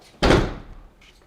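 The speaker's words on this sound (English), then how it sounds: "Instant locking of that door, extremely secure." A Thunderbolt deadbolt lock on the rear door of a Chevy Express van engages with one sharp, heavy thunk, followed by a brief faint click, close and alone.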